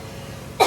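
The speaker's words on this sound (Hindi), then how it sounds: "एक तो ये खांसी" A single sharp cough bursts out at the very end, loud and close, after a stretch of quiet kitchen room tone during a cooking session.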